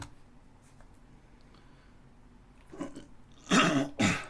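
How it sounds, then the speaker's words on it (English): A few rough throat-clearing bursts near the end, close and fairly loud, after a quiet stretch. "forgive me for clearing my throat"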